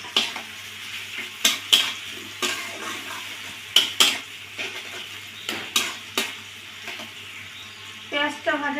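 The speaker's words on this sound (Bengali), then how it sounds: "এবার আমি দিয়ে দেবো পেঁয়াজ কুচানো।" Chopped onion frying in a pan while cooking Bengali mutton kosha, a steady close sizzle broken by repeated sharp scrapes and clinks of a spatula stirring against the pan, with no talking.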